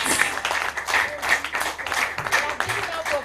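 An audience at a curriculum development workshop claps steadily in a room, a continuous patter of applause with a voice talking over it.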